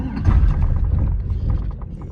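A 1988 Monte Carlo SS with a swapped LS engine cranks as it tries to start, giving a steady, dense mechanical churning rhythm that stays loud and close for about two seconds without catching.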